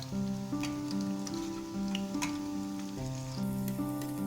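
Masala vada, a chickpea lentil fritter, frying in hot oil, giving a steady close sizzle with crackling bubbles that runs throughout, with a low tonal hum from the stove beneath.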